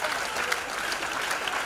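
A crowd at an International Women's Day gathering applauds steadily, a thick, even wash of clapping filling the hall, with a faint voice underneath.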